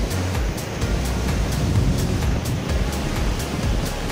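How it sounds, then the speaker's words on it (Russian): Steady surf of a calm winter sea washes and rolls continuously, a broad low rushing sound with gentle rising swells, no voices. "И спокойное море."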